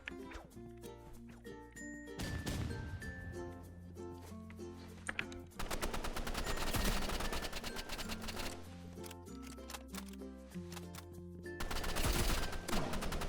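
Rapid bursts of Uzi gunfire in the video game Roblox Rivals crackle over busy game music with chimes and tones, firing in repeated stretches without pause.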